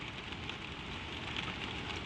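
Gentle rain patters steadily on a roof, a soft, even hiss of many fine drops with no other sounds standing out.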